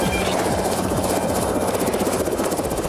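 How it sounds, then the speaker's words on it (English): Rescue helicopter lifting off at night near cliffs by a town, its rotor blades thudding in a fast steady chop over a loud turbine whine, close and continuous. "As the helicopter lifted up,"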